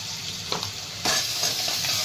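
Finely chopped tomatoes with salt being stir-fried in a pan, a steady close sizzle with scraping stirs, growing louder partway through.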